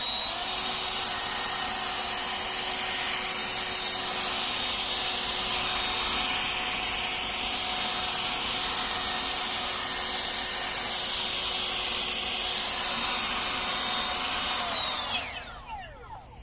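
An AOETREE AT-0830 electric leaf blower running on turbo while clearing a flower bed gives a loud, steady whooshing roar with a high motor whine that holds for about fifteen seconds, then winds down and cuts off near the end.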